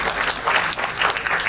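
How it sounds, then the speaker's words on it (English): An audience claps at a hospital event marking bone marrow transplant milestones, a short, loud, continuous burst of many hands throughout. "that needs a clap."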